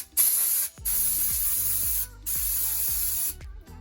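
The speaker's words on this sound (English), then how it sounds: "Take off this filter in here as well. That'll need a good spray" Bursts of cleaner sprayed onto the filter of a Paslode first-fix nail gun during servicing, three long loud hissing sprays close up, separated by brief pauses and faint handling knocks.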